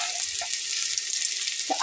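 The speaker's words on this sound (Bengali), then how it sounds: "একই সময়ের মধ্যে কিন্তু আলু আর উচ্ছেটা ভাজা হয়ে গেল" Potatoes and bitter gourd fry together in oil, a dense close sizzle with fine crackling throughout and a couple of faint stirring knocks, with no speech.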